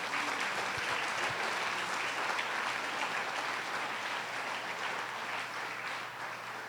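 Steady, dense applause from a church congregation during a Sunday service, sustained at an even level throughout with no voices over it.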